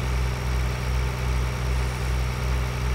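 A tractor engine in Farming Simulator 2013 idles steadily with a low, throbbing drone and a gentle rhythmic pulse, constant and close, with no talk over it.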